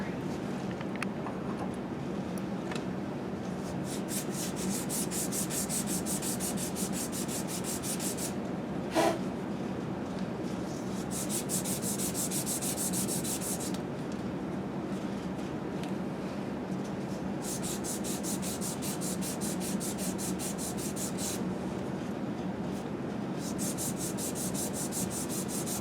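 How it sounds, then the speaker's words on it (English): Sandpaper rubs back and forth on the cork of a saxophone neck, soft rhythmic scratchy strokes in repeated bursts with short pauses, close up and fairly quiet. "I gotta sand it a little bit more."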